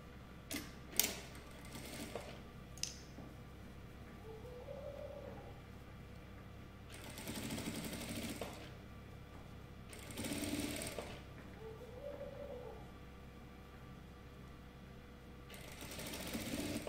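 A sewing machine stitches bias tape along its fold line on a bra, running in several short bursts of steady motor whirring separated by pauses, with a few faint clicks early on.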